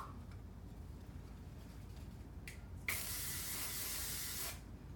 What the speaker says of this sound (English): And then from the back, I spray it.